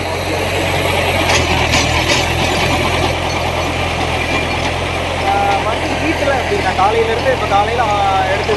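A New Holland 6010 tractor engine running in third creeper gear over farmland, a steady close diesel drone with a low rumble throughout. Someone talks over it.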